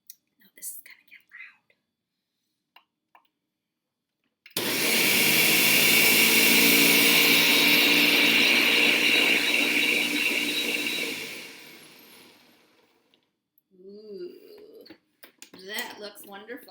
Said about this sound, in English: we are going to put on all of our important blender stuff